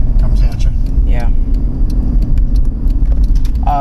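Steady low road rumble fills the cabin of a moving car, constant and close throughout, with a person talking over it.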